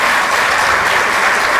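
An audience in a Lomas Seminar 2014 hall breaks into steady, dense applause, loud and continuous throughout without any pause.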